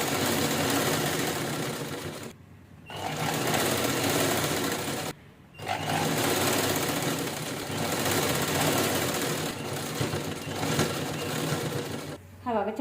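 An electric sewing machine stitches a purse in steady, dense runs of rapid clatter, stopping twice for brief pauses before resuming at full pace, loud and close throughout.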